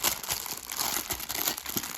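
Plastic packaging of hanging Christmas ornaments being opened, with continuous close crinkling and crackling for a couple of seconds.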